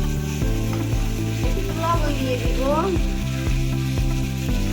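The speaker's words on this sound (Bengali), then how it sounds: "সুন্দর করে ভাজা ভাজা করে নিব" New potatoes fry in hot oil for a home chicken dish, giving a steady, close sizzle that runs the whole time while a person speaks briefly over it.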